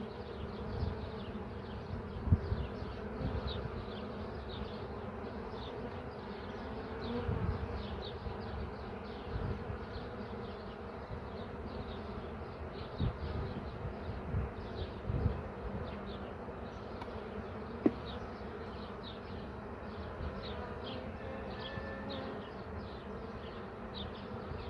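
Honey bees buzz steadily around an open beehive as frames of comb are handled, a dense continuous drone of many wings with occasional louder passes near the listener.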